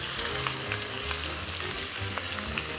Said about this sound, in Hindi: तेल जब गर्म हो जाएगा ना तब इसमें ऐड करेंगे आधा छोटा चम्मच जीरा और इसके बाद ये चॉप्ड अनियंस